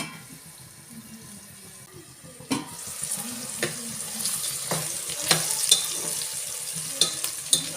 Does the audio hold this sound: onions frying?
yes